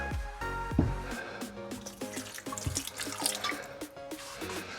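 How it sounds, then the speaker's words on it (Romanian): Wine pours and splashes into a cooking pot of roasting meat up close, with bubbling and gurgling tones rising as it fills, then a few clinks near the end. "punem un pic de vin"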